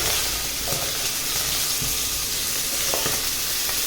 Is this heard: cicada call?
no